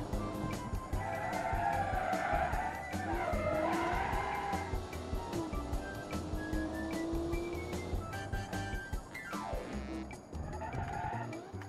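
Race cars in the Automation racing game squeal their tires through a skid and spin-out, a long wavering screech over droning engines that rises and falls for several seconds before easing.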